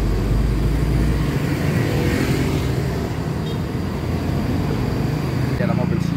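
Truck engine roaring loud and continuous at close range, dense low rumble throughout with people talking over it; heavy vehicle noise from a roadside truck-spotting scene.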